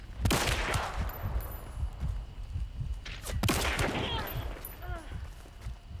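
Rifle fire from a Vetterli Cyclone in the video game Hunt: Showdown, heard as a quick series of sharp, close shots in the first half and more in the second, with shell or mechanism clinks between them.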